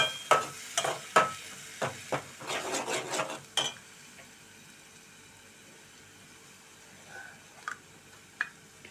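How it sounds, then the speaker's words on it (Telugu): Cluster beans fry in oil, with several sharp clatters and scraping stirs up close at the start, then a faint low sizzle carrying on alone with a couple of soft knocks. "పచ్చి వాసన పోయేంత వరకు వేయించుకుందాం నూనెలో"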